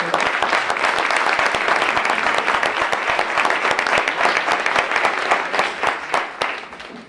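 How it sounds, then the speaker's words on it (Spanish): Audience at a book presentation claps for a speaker being introduced, a full round of many hands with sharp individual claps poking through, steady and loud before tapering slightly at the end. "Fuertes palmas para el doctor Alberto"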